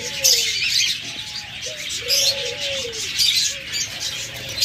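Diamond doves coo at a bird sale, soft repeated rising and falling coos spaced every second or so, close by, over a bed of higher chirping from many other birds.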